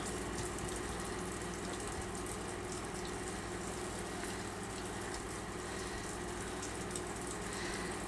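Steady rain falls outside over a garden, a continuous even hiss of drops on surfaces with a low rumbling undertone, no voices.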